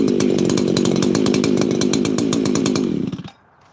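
Husqvarna 346 chainsaw engine, not ported, running at high revs nearby with a steady buzzing roar, then cutting off abruptly near the end, leaving quiet.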